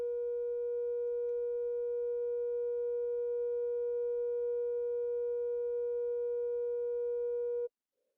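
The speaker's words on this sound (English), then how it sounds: "And this is B at 480 hertz." A steady pure sine tone, the note B at 480 hertz, holds unbroken and loud for about seven and a half seconds before cutting off abruptly into silence.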